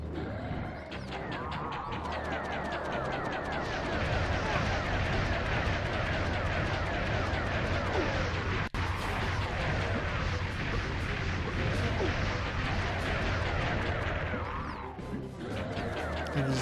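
Demons firing shots in the game MediEvil, a dense barrage of repeated impacts and blasts layered with game music and effects, loud and continuous throughout.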